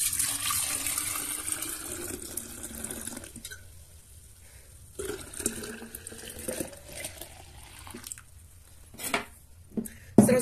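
Basil compote pours from a pot into a jug in a steady liquid stream that breaks off and resumes, with gurgles and splashes near the end. It is close and moderately loud, and no one speaks.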